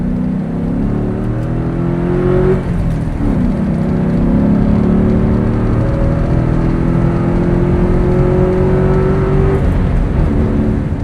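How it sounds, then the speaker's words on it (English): A 2003 Ford Mustang Mach 1 with a 4.6 V8 and five-speed manual downshifts into second and pulls hard, the engine note climbing in loud rising sweeps over steady road roar, heard from inside the car. "We're going to downshift into second here, do another little aggressive pull."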